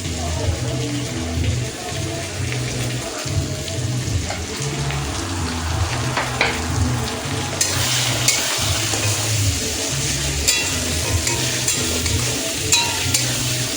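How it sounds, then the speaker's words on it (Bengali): Whole ground spices (coriander, cumin, black pepper, bay leaf, dried chili) fry in a pan for mutton, a steady close sizzle with scraping stir strokes and a brief tap-like hiss partway through, continuous throughout. "মশলাটা ভালো করে কষে নেব।"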